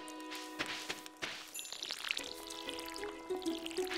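Watering crops in the farming video game Stardew Valley: a soft splashing pour mixed with light game taps and thuds, over quiet background music tones with a few brief chimes.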